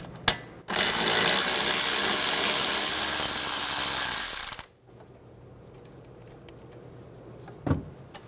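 A 12mm socket on a power ratchet backs out the strut bracket bolt on a 2011-2014 Hyundai Sonata, making a loud, close whirring for about four seconds before stopping, followed later by a single clunk.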